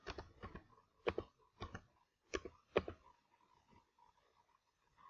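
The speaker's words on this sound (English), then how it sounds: "Now click on apply." Mouse button clicks while working through Windows 10 settings, a handful of sharp, close clicks spaced irregularly with quiet gaps between, no talking.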